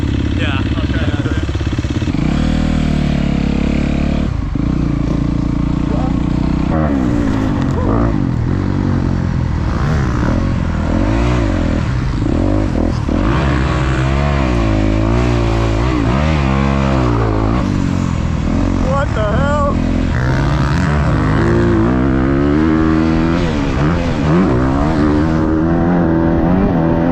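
Motocross motorcycles run on a dirt track with new layout changes such as a 180 turn and step-down jump. Continuous loud engine drone rises and falls through gear changes and revs for the whole stretch.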